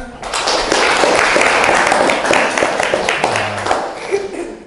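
Schoolchildren in a geography class clap their hands together in a loud, brisk burst of applause that fades out near the end, with some voices mixed in.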